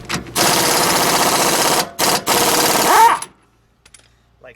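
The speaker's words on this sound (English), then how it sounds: "use our impact gun to break loose" An impact gun hammers loose a wheel hub nut on a 2001-2005 Honda Civic rear wheel in three loud, rapid rattling bursts with short pauses, then stops and is followed by near silence.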